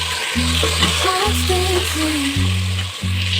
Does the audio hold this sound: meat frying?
yes